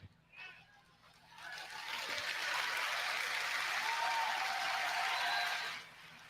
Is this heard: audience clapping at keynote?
yes